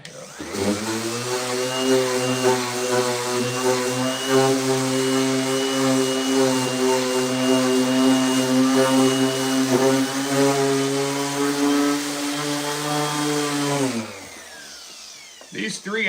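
A Bosch corded sander with 80-grit 3M pads works wood on a larger project, giving a loud, steady motor whine with a droning hum for about fourteen seconds. It then winds down and stops.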